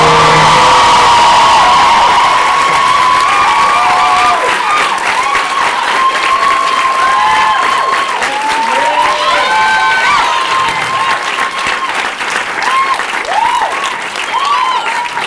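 A pageant audience applauds and cheers a first runner-up: loud, continuous clapping from a large crowd, with rising whoops and shouts scattered throughout.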